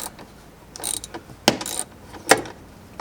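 A ratchet with a 10mm swivel socket works on the dashboard screws of a 1999-2007 Chevrolet Silverado or GMC Sierra, producing short bursts of clicking pawl ratcheting and a couple of sharp metallic clacks, close and alone.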